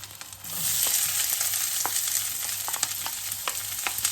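Onions frying in a hot pan, a steady broadband sizzle that swells loudly after a quiet start and holds, with occasional small stir clicks and pops, no voices.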